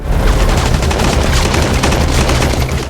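Relentless gunfire from a dramatized TV battle scene, a loud, dense barrage of overlapping shots and bursts sustained without pause for about three seconds, with no talking.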